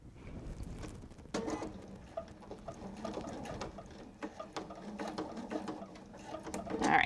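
A sewing machine stitches fabric for a wallet in a series of short, fast mechanical runs with brief pauses between them, steady and close.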